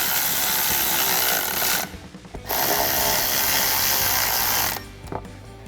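Ratcheting wrench tightening suspension clamp bolts on a 2014-2020 Ford F-150 during a Rough Country lift install, a steady loud mechanical clicking and whirring run broken by a short pause, then resuming.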